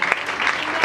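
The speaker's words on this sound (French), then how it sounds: "Acclamons très fort pour le Seigneur" A church congregation claps and cheers together in worship, a dense, loud, continuous burst of applause lasting under a second.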